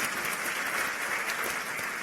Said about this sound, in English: let's give them a round of applause for their wonderful presentation